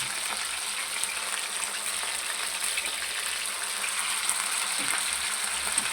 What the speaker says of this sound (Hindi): इसको आपने हल्की आंच पे बिल्कुल फ्राई करना